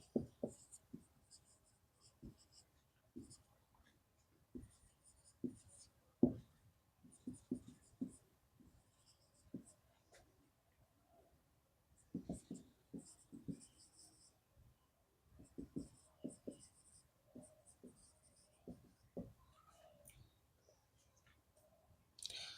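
Pen or chalk writing out an example during an English grammar lesson, heard as faint, irregular scratching and tapping strokes in short bursts that keep stopping and starting, with quiet room tone and no talk.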